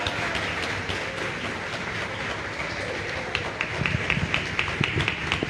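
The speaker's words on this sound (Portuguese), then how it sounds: "Você pode aplaudir o Senhor Jesus?" A church congregation claps for Jesus in a steady dense wash, building into sharper, more distinct claps toward the end.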